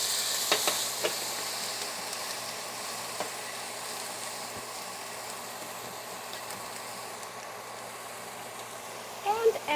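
Quail eggs frying in a hot pan give a steady, even sizzle and hiss that holds throughout, with a few clicks and taps near the start and end.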